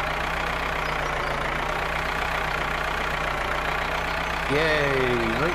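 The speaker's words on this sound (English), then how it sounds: "Stay out of the way of the tractor." Tractor engine idling in the farming video game Farmer's Life, a steady low mechanical rumble and hum running throughout, close and loud, with a rising-and-falling engine tone entering near the end.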